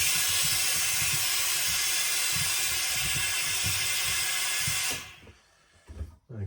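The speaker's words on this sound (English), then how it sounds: "I'm going to put a bit more steam on the brim this time" Steam hisses loudly and continuously onto the brim of a felt trilby hat, a harsh steady jet with a low rumbling pulse beneath, cutting off abruptly near the end and leaving a few soft handling thumps.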